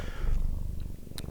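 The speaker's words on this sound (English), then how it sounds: "you got some pretty loud purrs in there" A cat purring loudly and close up, a steady rumbling purr lasting about a second with a faint click near the end, no talking.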